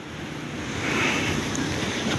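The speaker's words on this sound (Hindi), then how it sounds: "इससे आगे भी पानी ऐसे जिस तरह यहाँ से गिर रहा है" Water pouring down from a large mountain spring in Kashmir, a broad, steady rushing wash heard close up that swells slightly partway through and stays continuous.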